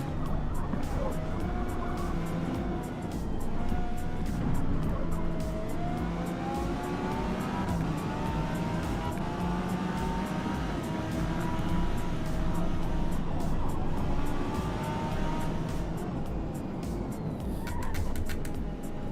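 Car drifting in the racing game Forza Motorsport, a loud, continuous engine roar with wavering pitch and tyre noise that swells and eases over nearly twenty seconds.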